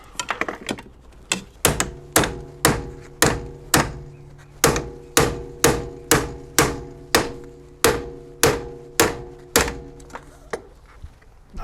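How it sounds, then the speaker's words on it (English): A hammer strikes hard over and over in a steady rhythm, about twenty sharp ringing blows close by, while an E46 steering angle sensor is being replaced, with no talking. "It's always a bigger hammer."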